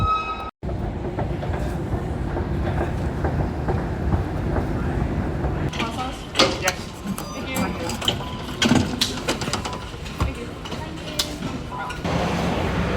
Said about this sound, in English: So we've just got off the Metro.